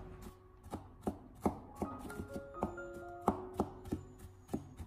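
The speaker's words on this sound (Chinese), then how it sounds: "蒜片切好以后，再将它改刀切成蒜末" A kitchen knife chops sliced garlic into mince on a cutting board: a close, steady series of sharp, crisp taps about two or three per second, with no talking.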